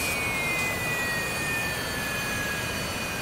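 A jet engine shutting down in the flight simulator DCS World, a steady loud roar with a high whine that slowly falls in pitch, heard alone with no talking.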